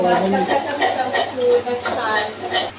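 Sautéed Bangladeshi fish curry sizzles in a pan as water is added, a loud hissing fry with stirring scrapes, while someone talks over it.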